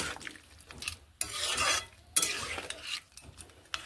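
Water is stirred into a pan of cooking broccoli and mixed vegetables, producing two loud watery sloshing swishes between softer scraping strokes of a spoon against the pan, close up with no talk.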